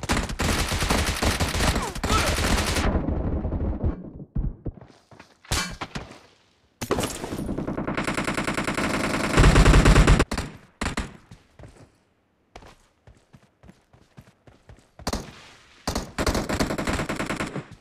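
Sustained automatic bursts from a PP-19 Bizon submachine gun during a domination match in a first-person shooter game, loud and close, with long rattling volleys broken by short pauses and scattered single shots.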